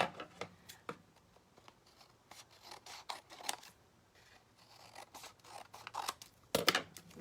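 Scissors trimming craft material for an indigo-dyed boho project, a series of sharp, close snipping cuts in an irregular rhythm, with short pauses between them and one louder cluster near the end.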